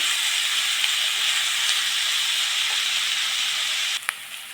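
Ingredients with turmeric frying in a pan, a steady broad sizzling hiss that runs evenly and close before a brief clatter near the end.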